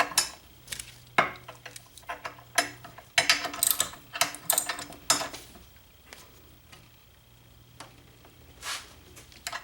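Box end wrench tightening and locking nuts on a header stud during a Bullitt Mustang header install, giving several sharp metallic clicks and clanks in bursts, close and fairly loud, with quieter gaps between.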